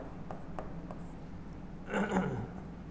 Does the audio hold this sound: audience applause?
no